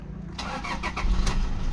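Toyota Fortuner engine cranking and catching on a restart, a steady low engine rumble building slightly louder toward the end, close by.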